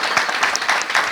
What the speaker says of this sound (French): Quelqu'un n'a qu'à applaudir pour ça.